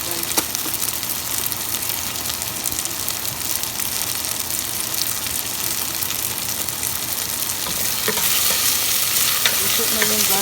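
Chicken and garlic fry with a steady loud sizzle while a utensil stirs through the pan, scraping and clacking; the sizzle grows fuller near the end, with no talking.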